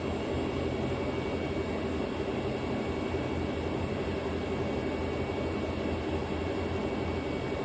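CNC lathe cutting a trapezoidal internal thread at about 150 RPM, giving a steady, loud, continuous machining roar and hiss with no breaks.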